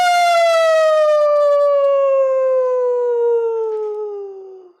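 A single long, sustained human howl imitating a wolf glides slowly downward in pitch for several seconds, loud and clear, fading out at the end.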